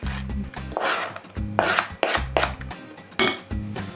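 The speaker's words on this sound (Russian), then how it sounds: "Нарезаем меленькими кубиками помидор." A knife dices a tomato into small cubes on a cutting board, chopping repeatedly with irregular scraping strokes and taps in uneven rhythm, close and fairly quiet.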